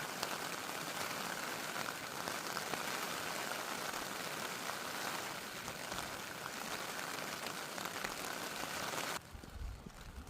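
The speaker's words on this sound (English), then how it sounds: "Absolutely lashing it down." Heavy rain drums steadily on an ultralight cape shelter pitched in a mountain forest, a dense, loud, constant hiss with no letup until it drops away sharply near the end.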